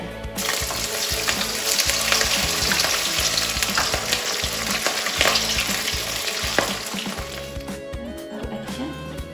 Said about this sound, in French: il est prêt à saisir dans l'huile bien chaude. Donc, faites chauffer votre huile dans le wok